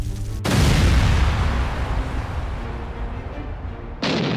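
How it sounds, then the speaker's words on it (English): A Russian armoured personnel carrier explodes after a drone strike: a sudden heavy blast followed by a long roaring, crackling rumble that slowly fades, then another abrupt burst at the end, loud and close. "The vehicle ignites in flames before finally exploding."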